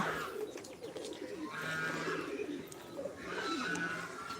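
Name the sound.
king pigeons and fancy pigeons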